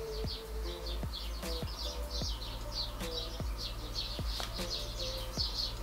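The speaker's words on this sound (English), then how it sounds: "the birds are going mental again" Birds chirp busily outdoors in a continuous high twittering chorus, moderately loud, with sharp clicks and taps scattered over a low steady hum.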